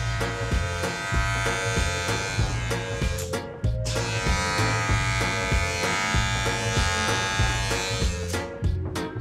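Electric hair clipper with a 1.5 guard cutting hair on a pixie cut, a close steady buzzing hum with repeated pulsing strokes as it runs up through the hair.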